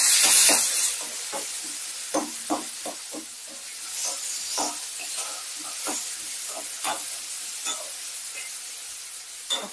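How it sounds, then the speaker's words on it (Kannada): Onion and tomato frying together in a pan, a steady sizzling hiss throughout with occasional soft stirring clicks and scrapes, close and moderately loud, no voices. "ಈರುಳ್ಳಿ ಮತ್ತೆ ಟೊಮೆಟೊ ಫ್ರೈ ಆಗ್ತಿದೆ."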